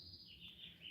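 Small bird in an elder bush giving a faint, brief, high thin chirping call after being disturbed, sounding quiet and somewhat distant.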